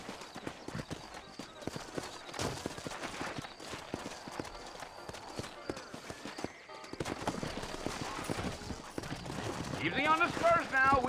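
Horses in the Red Dead Redemption video game clop along at a steady trot, hoofbeats continuous under background music and game sounds, with a brief whinny near the end.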